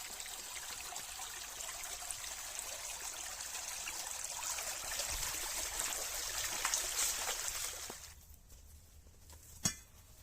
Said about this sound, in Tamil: ஓடையில் கழுவுறதே தனி சுகங்க.